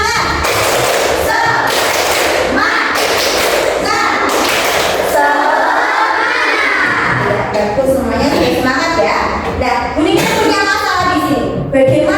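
Schoolchildren in a classroom do a rhythmic spirit clap, loud close bursts of clapping in a patterned beat, mixed with children's voices calling along.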